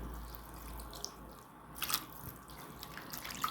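Water being poured into couscous while it cooks, faint trickling and dripping splashes in a quiet kitchen.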